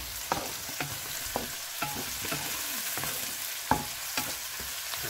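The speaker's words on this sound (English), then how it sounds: "onion and garlic fry up in the hot oil. The in goes tomatoes and a few green onions." Onion, garlic, tomatoes and green onions fry in hot oil in a pot for Guyanese catfish curry: a constant close sizzle with regular knocks and scrapes from stirring, and no talk.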